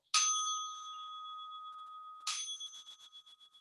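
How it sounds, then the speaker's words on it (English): A small bell, struck from a seat with a cane brought back from Amsterdam, rings twice with clear, bright tones; the first rings out and decays slowly, the second is followed by quick rattling taps. "she sounded the bell"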